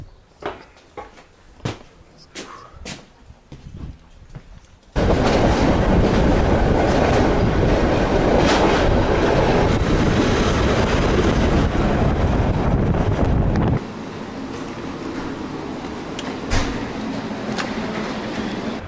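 A passenger train rolling through Hungary, its loud steady roar and rattling clickety-clack rushing past a nearby microphone, with wind buffeting and quieter clicks at the start and a slightly softer rumble toward the end.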